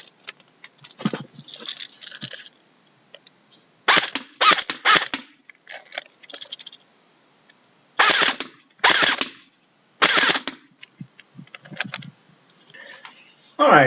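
A Cybergun SwissArms SG 552 Commando airsoft rifle with a nylon V3 gearbox fires at a cardboard box several yards off, in sharp rapid bursts of clattering shots separated by pauses.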